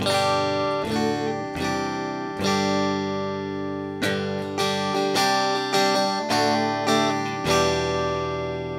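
Clean electric guitar chords through the Power Zone clean preamp setting of an M-VAVE Cube Baby effects unit ring out alone, struck one after another with steady sustain, close and fairly loud.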